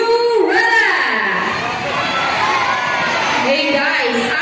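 A crowd of people at Manila Ocean Park shouts loudly together on cue, a dense, sustained wall of overlapping voices with higher children's cries rising above it.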